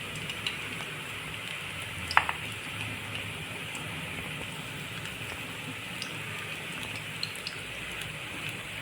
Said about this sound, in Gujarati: ઊંધિયાના મુઠિયા બનાવવા માટે લોટ તૈયાર થઈ ગયો છે તો એને આપણે આવી રીતે શેપ આપીને તળી દેશું